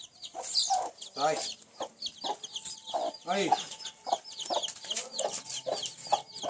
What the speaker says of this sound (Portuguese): Olha, galinha ali.